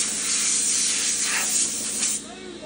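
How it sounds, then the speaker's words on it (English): Compressed-air blower cleaning debris out of an RV roof air conditioner unit, a steady loud broadband hiss lasting over two seconds, then dropping off sharply near the end. "So we just blow it out real good with the air blower."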